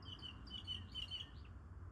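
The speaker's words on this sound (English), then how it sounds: "The birds are laughing at you." Birds chirp in the woods, with quick high tweets repeating in little clusters over a low rumbling background, clear but not loud, and no talking.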